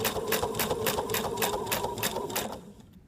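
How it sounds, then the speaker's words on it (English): A sewing machine runs at a steady pace as it top stitches around the edge of a circular fabric placemat, its needle beating out an even, rapid rhythm up close before slowing and stopping near the end. "We have finished our placemat by top stitching all the way around."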